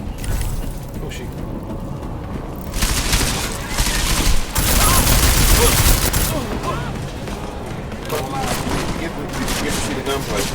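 Sustained bursts of automatic gunfire and clattering shots in the Deus Ex: Mankind Divided prologue, dense and loud throughout, with game sound and a voice mixed in underneath.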